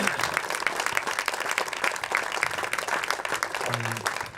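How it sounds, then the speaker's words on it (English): A round of applause at a blind football tournament ceremony, dense clapping from a crowd held steadily throughout, with a brief low tonal sound near the end. "So a round of applause for these two teams,"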